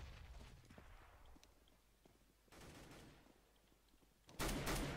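Bursts of gunfire from the video game CS:GO, played on a jailbreak server: scattered shots, then a loud close volley near the end, with faint background movement in between.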